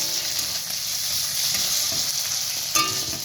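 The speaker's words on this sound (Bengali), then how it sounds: "ভালোভাবে কষিয়ে একদম নিচ্ছি, নাড়াচাড়া করে দিব" Chickpea curry fries in a pan while a spoon stirs it, making a close steady sizzle with scraping stirs and a sharper clack near the end.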